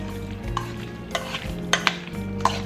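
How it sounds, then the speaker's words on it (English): Seasoning of onion powder, smoked paprika, garlic powder and white pepper being mixed in a bowl, soft rhythmic stirring strokes with a few sharp utensil clicks against the side, close and alone. "Now go ahead and give that a good mix."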